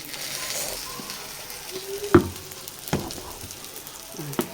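Small pieces of chopped onion fry in a pan, giving a soft, steady sizzle with a few sharp clinks and taps on top, all quiet and close, with no speech.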